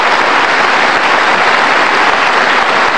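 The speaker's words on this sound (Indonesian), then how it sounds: "Oke, kita kasih tepuk tangan." A studio audience at an Indonesian television talk show breaks into loud, sustained applause, dense steady clapping filling the whole moment with no voices above it.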